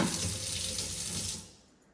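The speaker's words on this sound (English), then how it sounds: "check out this stainless steel sink with this Pfister faucet" A Pfister faucet runs steadily into a stainless steel sink in a renovated kitchen, a close, even rush of water that fades as the tap shuts off near the end.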